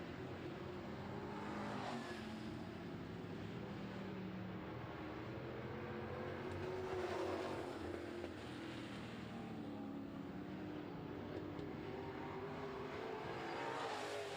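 Super Truck race cars roar around a track during a feature race, a steady, distant engine drone rising and falling in pitch as trucks pass.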